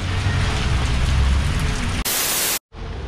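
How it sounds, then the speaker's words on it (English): Steady rain falling outdoors during a rainy ride, a loud, dense hiss that cuts abruptly into a brighter static burst and then a brief dropout near the end. "So we decided to wait for the rain to die down."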